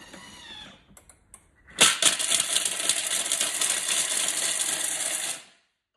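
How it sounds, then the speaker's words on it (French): A food processor at speed 7 blends hard chocolate, starting with a few clicks and taps, then bursting into a loud, harsh grinding rattle for about three and a half seconds before stopping abruptly. "Et on va mixer 3 secondes. C'est rapide, hein? Vitesse 7. Mais attention, c'est fort."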